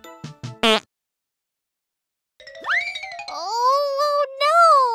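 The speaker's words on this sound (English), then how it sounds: "Someone's farting and running away!" A cartoon fart sound effect comes in a cute children's toy pretend-play story, first as a few short squeaky blasts, then a pause, then long, loud, wobbling comic tones with rising and falling pitch that sound alone.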